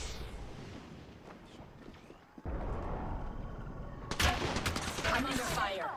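Video game gunfire bursts out partway through, dense and loud crackling over a busy battle background after a quieter, rumbling stretch.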